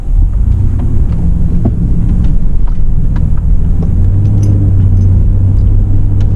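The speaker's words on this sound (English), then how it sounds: "Now let's take this car for a drive." A 2003 Toyota Land Cruiser Prado TZ-G on the move, heard from inside the cabin as a loud, steady low engine and road rumble with wind noise and small intermittent knocks.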